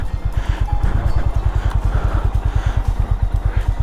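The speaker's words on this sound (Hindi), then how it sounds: "And these are the Riders, big boy and big bikers." Big motorcycles on a highway near the small town of Shergaon in Arunachal Pradesh, heard as a loud, steady, fast-throbbing low engine rumble that stays close and continuous throughout, with no voices.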